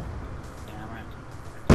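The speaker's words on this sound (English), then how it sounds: "Frag grenade" A frag grenade goes off in Black Ops 2, a single sharp broadband blast landing near the end after a stretch of low game ambience.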